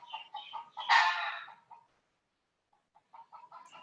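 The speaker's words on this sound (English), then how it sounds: "Apparently the chickens are outside singing to you as well." Chickens clucking outdoors in short, close bursts, with one louder rising squawk near the start, a pause of near silence, then more steady clucking.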